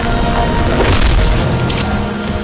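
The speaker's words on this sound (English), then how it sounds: "You can punch those things for fun." Objects in Halo 4 get punched, producing a loud, continuous crunch of splintering, wooden-sounding impacts with a heavy booming body that stays up close throughout.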